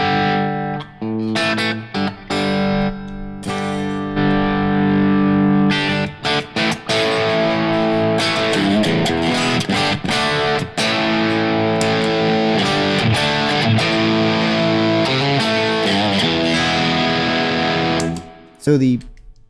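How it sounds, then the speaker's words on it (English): Electric guitar run through a Boss Blues Driver overdrive pedal, playing sustained, ringing chords and notes with mild, fairly clean drive, loud and continuous for most of the stretch before briefly cutting out near the end. "But the blues driver sounds freaking awesome."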